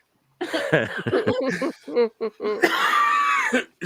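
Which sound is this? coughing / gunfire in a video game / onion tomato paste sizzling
coughing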